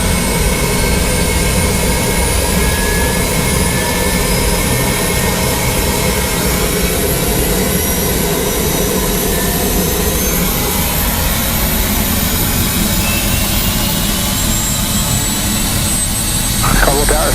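A Bell 407 GX helicopter's turbine engine and rotor run continuously nearby, making a steady, loud whine and whir throughout, with voices speaking over the engine noise.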